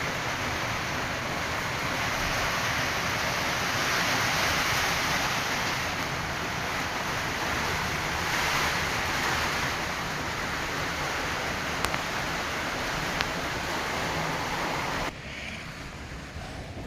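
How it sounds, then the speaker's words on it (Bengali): Steady rain falls in a dense, continuous hiss that stays loud and even, then drops noticeably quieter near the end, with no voices. "ওয়াও, কি সুন্দর বৃষ্টি।"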